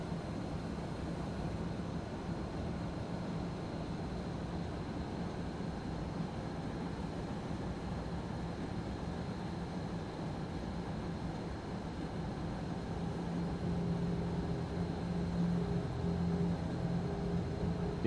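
A class 612 diesel train in the Train Simulator video game on the Nürnberg–Bayreuth line, heard as a steady, continuous engine drone and rumble that holds for many seconds and swells slightly toward the end, with no voices.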